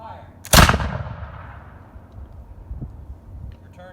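Flintlock musket fired once during a historical demonstration at Fort Frederick: a single sharp, loud blast followed by a long rumbling decay and quieter rustling afterward.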